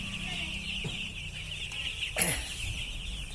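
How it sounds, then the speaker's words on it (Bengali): A flock of about 500 three-day-old broiler chicks peeps constantly in a dense high-pitched chorus nearby, with a few louder cheeps standing out over the steady chatter. "এই 3 দিন বয়স হচ্ছে এদের ব্রয়লার মুরগি বাচ্চা।"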